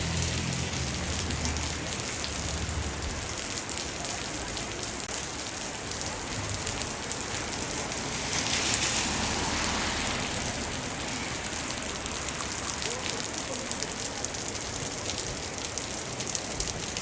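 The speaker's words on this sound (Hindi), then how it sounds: "यहाँ बहुत ज़्यादा बारिश हो रही है" Heavy rain in Manali falls steadily, a dense hiss of drops on surfaces, loud and unbroken throughout with no voices.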